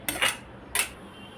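Cooked methi and matar vegetables are scraped from a pan onto a plate in two quick metallic clinks of a spoon, close and distinct, with no talking.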